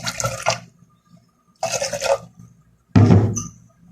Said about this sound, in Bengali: দিয়ে দিলাম পরিমাণ মতো পানি।